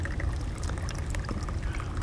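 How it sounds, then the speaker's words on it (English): Alcohol fuel trickles and splashes as it is poured into the reservoir of a small alcohol camping stove, a soft continuous liquid patter with faint clinks, close by and without speech. "simply to fill the stove, I pour the alcohol into the reservoir"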